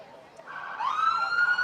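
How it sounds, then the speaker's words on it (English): A police car siren at a Fourth of July parade in Highland Park, hosted by the Park Cities Rotary Club, wails in a rising, fairly faint tone that grows steadier and louder at a distance. "There's the siren."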